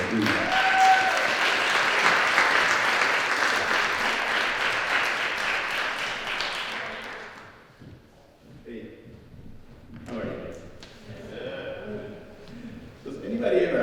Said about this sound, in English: So please give a round of applause for Luis Aguirre Torres.